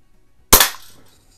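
A Daisy Buck Jones Special No. 107 pump-action BB gun is cocked once, giving a single sharp, close metallic snap that dies away quickly in an otherwise quiet space.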